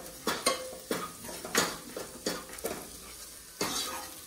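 Maida flour and butter being mixed in a bowl give close, rhythmic scraping and tapping strokes, roughly two each second, with brief pauses between them.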